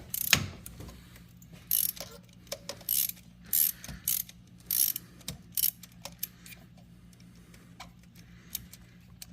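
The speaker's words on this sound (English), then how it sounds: "Another great thing about using these types of ratchets, you can just straighten them out, spin them out." A ratchet with a socket on a locking extension being spun out on a 3.5L Ford EcoBoost engine, a series of rapid clicking bursts with short pauses, close and crisp.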